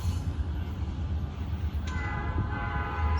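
A coal train hauled by red locomotives, with engines at the middle and rear, rumbles past on a track over a coal trestle, a loud continuous low roar with a steady tonal hum joining partway through.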